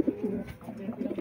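Racing pigeon cooing close by in soft repeated low burbling phrases, a steady run of throaty coos with little else around it.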